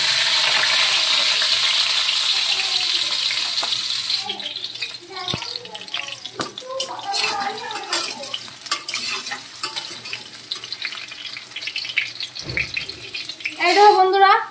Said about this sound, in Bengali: তো এবার আমি এই আলুগুলা দিয়ে দেবো তেলের উপরে।